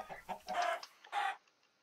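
Video-game chickens cluck and squawk under attack from parrots, a few close, sharp bursts of clucking followed by quiet.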